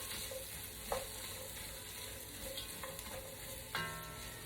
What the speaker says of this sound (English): now I'm going down with my onion and my celery. Get this all sweaty.